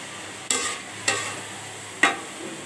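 Tomatoes being stirred into cabbage frying in a pan for a village-style cabbage bhaji: a soft sizzle underneath, broken by three sharp scraping strokes of the spoon against the pan.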